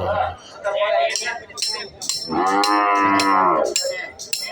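Cattle, fat cows and young bulls, at a rural cattle sale in Khon Kaen, Thailand, give a long, loud, close moo in the middle, with shorter lowing calls and people talking around it.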